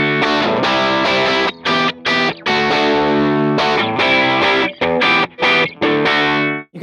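Distorted electric guitar run through the new Helix 3.5 cab model: loud, dense chords played in choppy bursts with short gaps between, no voices.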